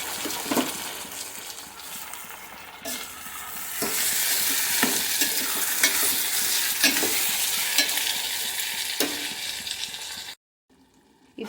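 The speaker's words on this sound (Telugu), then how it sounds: "ఒకసారి కర్రీని కలిపేసేసి లిడ్ పెట్టేద్దాం" Spinach and tomato curry sizzling in a pan while being stirred, a dense frying hiss that swells midway, punctuated by scrapes and clinks of the spoon before falling to near silence.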